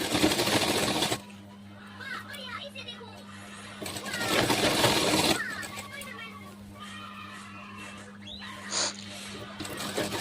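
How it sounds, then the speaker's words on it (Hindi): A sewing machine stitching petticoat fabric hums steadily beneath a voice talking throughout, with faint background noise and children's sounds. "उस पर हम लॉक करते हुए सिलाई लगाएंगे।"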